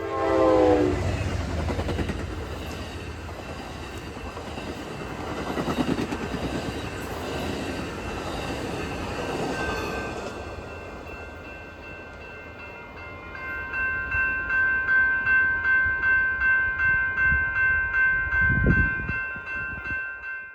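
A late-running northbound Amtrak Texas Eagle passenger train rumbles past on the DeSoto subdivision at Sherman, Missouri, with rhythmic wheel clatter, then a loud, sustained horn blast sounds close by over the rolling noise.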